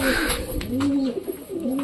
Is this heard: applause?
no